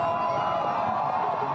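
Spectators at the Escalade race cheer the runners, a steady, fairly distant wash of crowd noise and applause with no single voice standing out.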